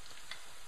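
Duck breast sauce bubbling at a hard boil in a pan, a steady close sizzle and hiss with a brief brighter spurt partway through, no voices.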